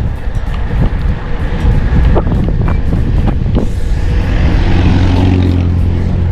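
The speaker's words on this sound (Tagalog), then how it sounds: "Ang lakas ng hangin oh." Loud, steady wind buffets the microphone on a ride through the Kaybiang Tunnel area, with a continuous low roar and rumble, as though moving at speed through open air.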